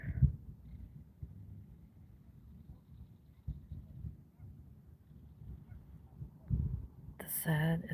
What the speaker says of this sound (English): You can hear the geese. The geese are out there.